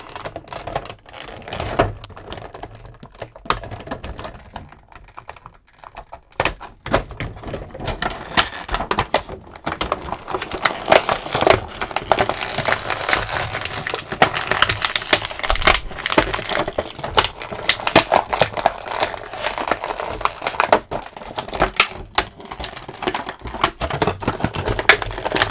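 Crinkly plastic packaging crackles and crunches steadily for about twenty-five seconds as a Jakks Pacific Tails action figure from the Sonic the Hedgehog 3 movie is worked free of its box, close and dense, with a brief quieter lull early on.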